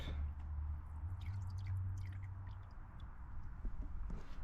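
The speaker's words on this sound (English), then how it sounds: "drain this back out" Engine coolant draining out of a Subaru B9 Tribeca's cooling system into a bucket during a thermostat replacement, a steady low gurgling pour with small wet squishes and drips, close and continuous, no talking.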